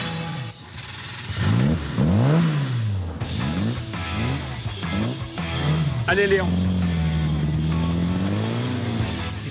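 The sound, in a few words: 1950 Renault 4CV car engine driving off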